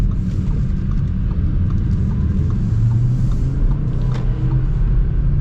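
A 2023 Audi RS3 in RS performance mode driving along, a steady deep engine and road rumble from inside the cabin, constant and fairly loud with faint faint ticks above it.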